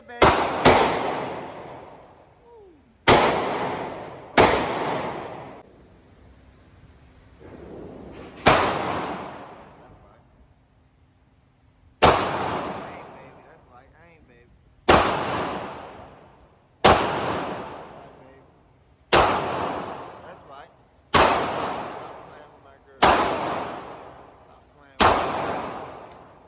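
Gunshots at an indoor gun range, about a dozen sharp loud single reports fired at irregular intervals, each leaving a ringing decay in between.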